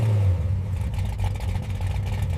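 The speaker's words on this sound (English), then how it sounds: "Listen to that idle." A 1967 Shelby Cobra engine idles with a deep, steady low rumble and a slightly uneven lope, heard close and alone.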